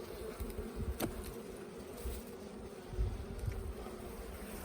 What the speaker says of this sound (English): Bees in the bottom box down there.